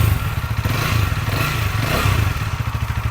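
A Hero Karizma XMR motorcycle engine idles close by with a steady, rhythmic low thumping, running smoothly and loudly throughout.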